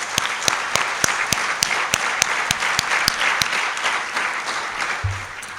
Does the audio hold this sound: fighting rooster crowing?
no